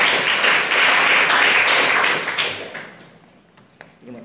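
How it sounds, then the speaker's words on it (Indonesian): Applause from a class audience in a university sociology lecture: a few seconds of steady clapping that fades out toward the end, with a faint thump. "Oke, aplaus buat narasumber 1."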